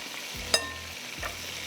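Ginger garlic paste fries in hot oil with a constant sizzle, broken by two brief scraping stirs against the pan.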